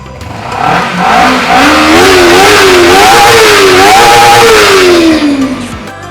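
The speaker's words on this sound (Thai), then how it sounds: "ตัวนี้เป็นเครื่องยนต์ 2 สูบนะฮะ" A two-cylinder motorcycle engine revs hard up and down several times, loud and close, before winding down at the end.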